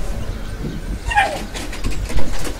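A frightened pet dog gives a brief whimpering yelp amid faint outdoor background noise, the cry rising sharply once before fading into quiet rustling.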